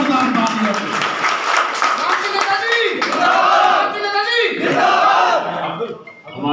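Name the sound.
audience applause at political rally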